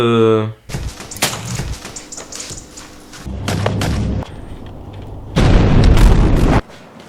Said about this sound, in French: dans le court-métrage, je suis un mec propulsé par une explosion